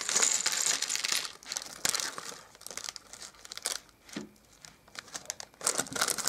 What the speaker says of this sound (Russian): Открываем первый пакет.